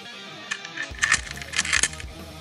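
Metal bolts for an ATV handlebar and riser kit on a 2016+ Yamaha Grizzly 700 clink and rattle as they are picked up, a few short metallic jingles and taps close by with no talking.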